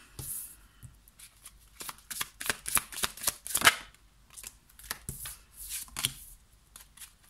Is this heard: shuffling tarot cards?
yes